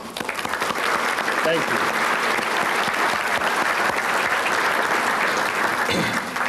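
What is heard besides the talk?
audience applause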